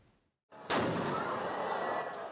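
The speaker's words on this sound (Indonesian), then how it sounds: "3 mercon dilepaskan untuk membuka kegiatan arak-arakan Machu Tachia dari kuil Chenlan" Firecrackers go off to open the Dajia Mazu procession from Chenlan Temple in Taiwan: after a brief quiet gap, a sharp loud blast gives way to a dense, sustained roar of bursts that fills the rest of the moment.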